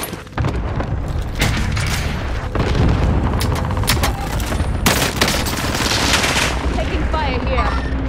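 Video game combat erupts with rapid machine-gun fire, heavy booms and explosions from a cluster airstrike, loud dense volleys of shots layered over rumbling blasts throughout.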